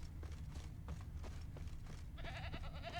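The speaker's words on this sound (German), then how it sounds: "Nee, da ist eine Ziege." A goat in the video game The Witcher bleats once, a wavering harmonic cry near the end. Before it come a series of soft rhythmic thuds like hooves over low ambient rumble.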